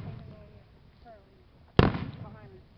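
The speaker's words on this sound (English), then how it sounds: "Yeah, I done got a lot of fireworks." Fireworks at an island water park burst with one sharp loud bang and a short crackling tail, over a background of people talking.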